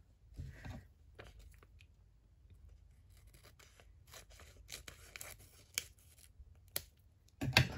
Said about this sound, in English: So now I might just trim off the excess bit that's on the top.